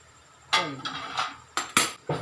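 A metal spoon stirs split coriander and fenugreek seeds in a pan for mango pickle, giving several uneven clinks and scrapes against the metal, close by, with a voice briefly mixed in.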